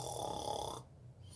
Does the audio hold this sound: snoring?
yes